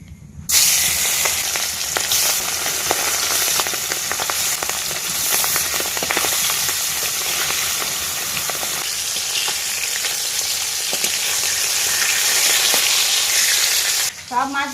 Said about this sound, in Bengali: একে একে মাছগুলো ভেজে নেব।